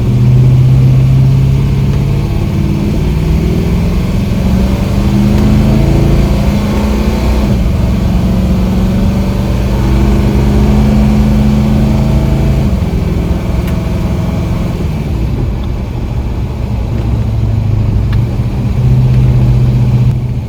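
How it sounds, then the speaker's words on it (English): A Holden WB ute powered by a 355 engine drives by, its deep V8 rumble swelling and shifting pitch as it revs through the gears, loud and steady throughout. "we'll do some drive-bys on this the old Ute"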